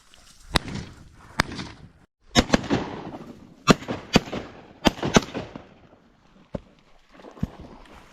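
Shotgun blasts ring out during a prairie bird hunt for ducks and rooster pheasants: about a dozen sharp, loud, close reports come in irregular bursts and doubles, with quieter rustling between them.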